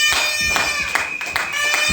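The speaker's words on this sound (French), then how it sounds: "Est-ce qu'on peut acclamer?" Guests at a church wedding ceremony burst into rhythmic applause, a crowd clapping in steady repeated beats with faint voices mixed in.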